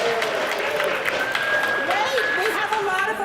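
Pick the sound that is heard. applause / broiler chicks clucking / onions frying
applause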